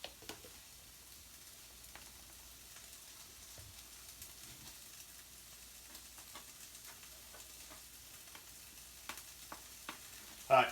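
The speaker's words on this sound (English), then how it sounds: "I've got my celery and onions sauteing down in half a stick of butter." Celery and onions sauté in half a stick of butter, giving a faint, steady sizzle with a few soft clicks, heard alone in a quiet kitchen.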